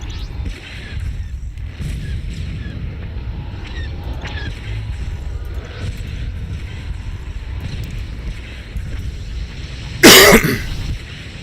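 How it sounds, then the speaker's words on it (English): One sharp, loud cough lands right into a close microphone near the end, after a long stretch of quiet background rumble from a game livestream. "I think I coughed into the mic"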